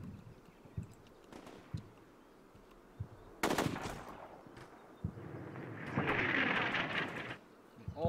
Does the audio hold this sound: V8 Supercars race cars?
no